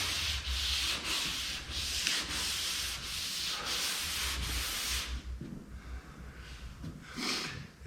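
Hand sanding the body of a 1969 Chevelle with a long sanding block: close, steady, rhythmic rasping strokes back and forth, continuous for several seconds, then quieter, lighter rubbing strokes, no talk.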